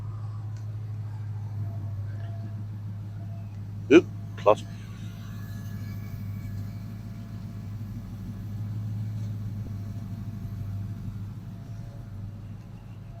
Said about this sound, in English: That is a beautiful sounding car.